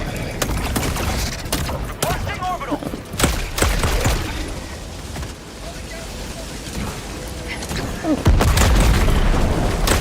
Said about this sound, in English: What just blew up on my right ear?